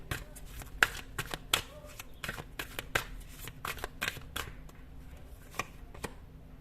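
Tarot cards shuffled by hand in a quiet room, a run of crisp riffling snaps and soft slaps in irregular bursts, close and fairly faint with no talking.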